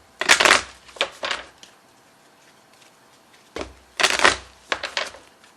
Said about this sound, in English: now I'm going to pull the Oracle of E cards for you